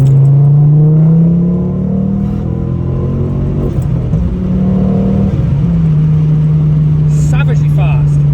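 A 330 bhp Ford Focus ST MK2 with a hybrid turbo accelerating hard, a loud, close engine drone rising in pitch through the gear, dipping briefly at a shift, with a voice speaking over it.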